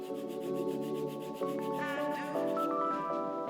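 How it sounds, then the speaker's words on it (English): A nail file rubs up and down across a fingernail in a steady, close scratching rasp that carries on for several seconds without pause. "gently start filing up and down"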